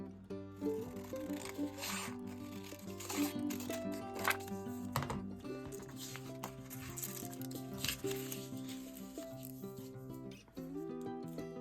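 Scissors work through paper for a scrapbook at close range, a series of crisp snips and rustles with music playing underneath.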